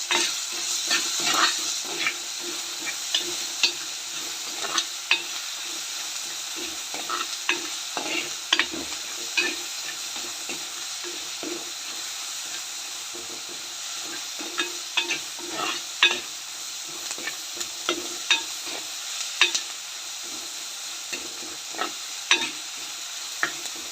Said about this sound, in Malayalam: ഉള്ളി നന്നായിട്ട് വഴറ്റിയെടുക്കാനായിട്ട് ആവശ്യത്തിനുള്ള ഉപ്പ് കൂടെ നമുക്കൊന്ന് ചേർത്ത് കൊടുത്ത് ഒന്ന് ഇളക്കി